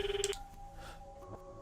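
A phone rings in the video game Steins;Gate 0, a short electronic ring burst at the start, followed by faint tones and quiet background.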